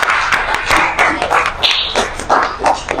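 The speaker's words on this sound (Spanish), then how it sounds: "Un aplauso, por favor." A small audience gives a short burst of scattered applause at a literary science-fiction talk event, with individual claps audible as uneven taps rather than a dense roar.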